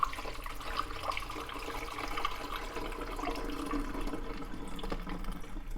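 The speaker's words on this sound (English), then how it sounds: "I'm just going to use the pot to fill up the reservoir" Water pours steadily from a coffee pot into the reservoir of a De'Longhi COM532M coffee maker, a continuous close splashing trickle that runs without a break.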